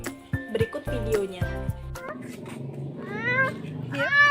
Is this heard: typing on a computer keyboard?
no